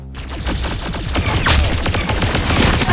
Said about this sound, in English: Stop shooting at me. Pew, pew, pew, pew, pew, pew, pew.